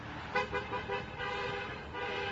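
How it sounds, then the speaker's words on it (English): Car horns toot repeatedly from traffic passing an auto workers' picket line, several short and sustained honks at moderate distance over a steady engine rumble. "You can actually hear the cars honking as they drive by."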